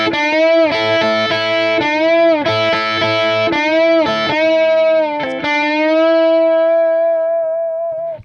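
A distorted electric guitar plays a movable rock lick with several bent notes in quick succession. The final bent note is held long and fades out at the end.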